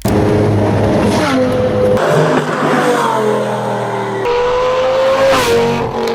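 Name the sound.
Lamborghini Gallardo V10 engine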